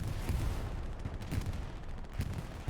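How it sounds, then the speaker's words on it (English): Artillery fire in a strategy video game rumbles as dense, continuous low booms and distant blasts overlapping into a steady roar, loud throughout with no talk. "Artillery's hammering him in return."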